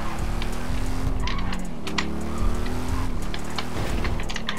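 Engine of a car in the GTA RP video game revving and pulling steadily, with the drone holding loud and close throughout, some squealing or chirping sounds on top and engine pitch shifting a few times.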